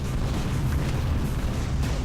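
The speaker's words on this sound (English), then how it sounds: "There's so many explosions." Dense, continuous rumble of explosions from the video game Tower of Guns, heavy low booms overlapping with no break, loud and close throughout.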